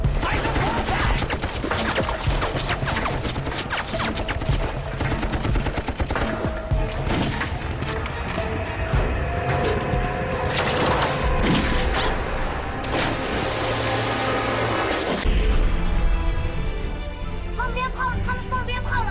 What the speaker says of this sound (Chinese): 他们放鞭炮了